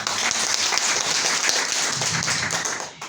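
Audience applause at a Hindi-language business seminar in Karama, Dubai, a dense steady clatter of many hands clapping together for about three seconds before tapering off at the end.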